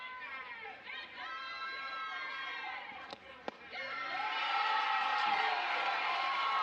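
A home crowd at a college softball game between Oklahoma and Kansas swells into a loud, sustained collective reaction after a called ball. A voice talks early on, before the crowd noise rises.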